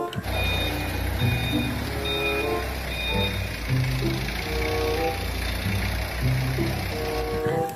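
Toy forklift truck giving repeated electronic reversing beeps in a steady pulsing pattern over a constant loud mechanical hum and noise.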